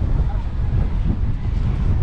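Strong wind roars on a beach on South Padre Island, blowing sand around a tent; a steady, loud, broadband buffeting that fills the mic for the whole stretch with no talk.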